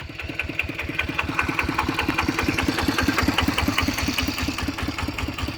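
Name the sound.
walking tractor engine idling, stuck in a hole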